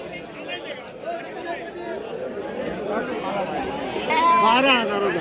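Goats and sheep bleat at the busy Shirur livestock market, their calls mixing with a crowd of people chattering nearby, growing louder and more distinct near the end.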